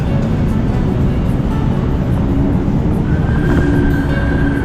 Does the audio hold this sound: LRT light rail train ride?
yes